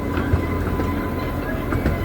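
A roller coaster train at Pleasure Beach rattles along its track in a steady, loud, continuous rumble with rhythmic clatter, heard from nearby without talk.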